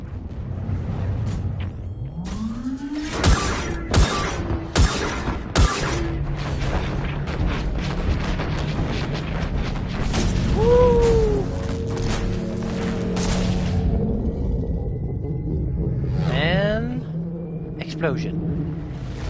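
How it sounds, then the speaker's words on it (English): A sci-fi explosion from the Mass Effect Legendary Edition game booms out among several heavy, sharp impacts and a low, continuous rumble, with game dialogue spoken around it. "Explosion."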